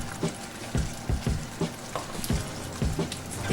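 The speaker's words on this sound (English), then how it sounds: "Give it a quick stir." Blue cheese pasta stirred in a pan, giving a series of soft scraping and clinking strokes over a faint, steady sizzle, with no talking.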